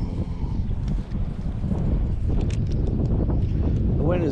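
Strong wind gusts buffet the microphone beside a Kansas lake, a rough continuous roar with uneven bursts, while a person speaks briefly underneath.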